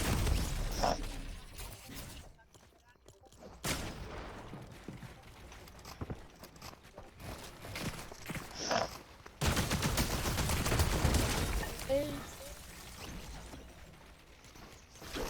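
Bursts of video game gunfire, including a heavy shotgun, crackle in short volleys with quiet gaps between them, in a multiplayer shooter played with friends.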